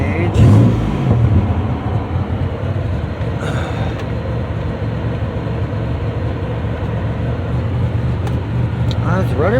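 A 2007 Pontiac Grand Prix GT engine running steadily with a dense, continuous rumble and road-like hum, loud and close throughout, with no clear changes in pace.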